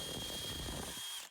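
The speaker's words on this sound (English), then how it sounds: "So let's just drill that out 5/16 and then this should go in." A power drill enlarges a 5/16 hole in a coolant temperature sending unit fitting for an LS swap, giving a close, steady whine that stops abruptly near the end.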